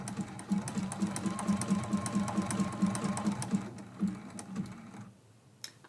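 Domestic sewing machine zigzag stitching onto leaf-print fabric during quilt block work, a fast steady mechanical chatter of needle strokes running for about five seconds before stopping, close and fairly quiet.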